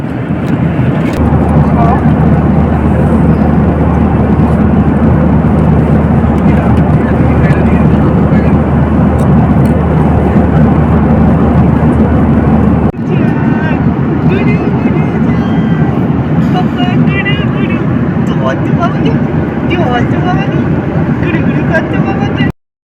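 A loud, steady broadband drone fills an airliner cabin as the plane descends to land, with a noticeable shift in the engine and air roar about halfway through.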